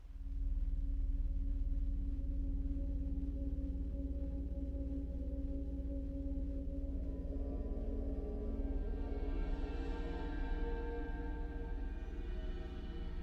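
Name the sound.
dark ambient soundscape from the Gravity 2 library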